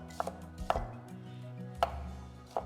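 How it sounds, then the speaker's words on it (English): A knife chops garlic on a cutting board, four sharp, well-spaced knocks over a low steady hum, close and clear with no talking. "Finally, chop 2 pieces of garlic."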